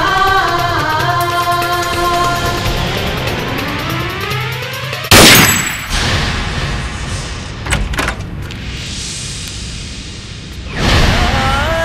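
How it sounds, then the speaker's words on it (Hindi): A single gunshot fired into the air in a 2019 Indian action film: a loud, sharp burst cuts abruptly through the dramatic music score, followed by a ringing tail and further dramatic sound effects. "मैंने हवा में गोली चलाई थी"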